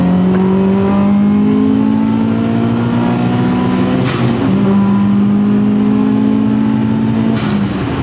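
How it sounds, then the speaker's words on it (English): A 2003 JDM Subaru STi engine revs up hard in third gear, a loud, close, rising drone that holds steadily, dips briefly at a shift near the middle, then climbs again, with no talking over it. "Gonna do a third gear pull."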